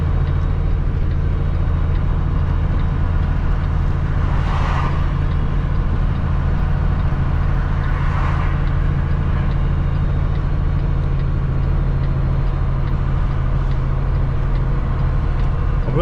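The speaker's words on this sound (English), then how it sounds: "hey, I'm a big slow truck" A big, slow truck rolls downhill on Interstate 8 with hazards on, its engine and road noise a loud, steady drone throughout, with faint brake-like hisses surfacing twice.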